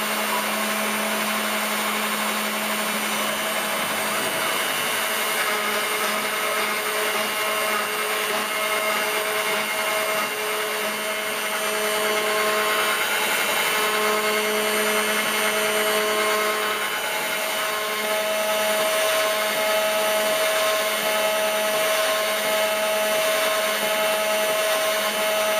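A CNC router cutter flattens a wooden board, giving a loud, continuous whine with steady tonal hum and grinding hiss that runs unbroken throughout, alone without talk.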